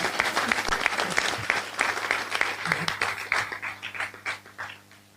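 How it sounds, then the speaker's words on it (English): Gallery audience at a presidential and male representative debate giving a community clap, a dense burst of close handclaps lasting several seconds, thinning and fading toward the end. "To the gallery, now is your opportunity to clap."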